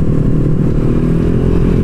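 Motorcycle engine droning steadily while riding on a group touring trip toward Bandung, a loud, continuous mid-pitched rumble with rattling, close to the microphone, with no talking.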